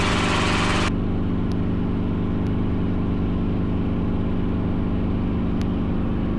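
Steady, loud drone of a training helicopter's engine and rotors during takeoff, heard from inside the cabin, with a harsher burst at the start, then a constant throbbing hum and no talk.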